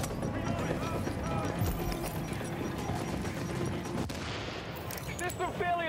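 Gunfire in The Division, the player taking fire from unseen enemies during a rush, dense rapid shots and game effects blending under continuous voices talking throughout.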